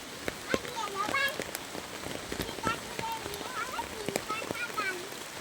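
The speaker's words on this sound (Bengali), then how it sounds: "বৃষ্টি করে টাপুর টুপুর।" Rain patters steadily on grass and wet ground, with scattered close drips over a soft hiss, while people talk under it.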